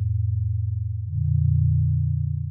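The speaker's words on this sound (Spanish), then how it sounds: "que parece una onda senoide, a lo mejor no es la senoide pura" Synthesizer oscillator sounding a low, pure sine-like tone, steady and humming, stepping slightly up in pitch midway and holding there, with nothing else heard.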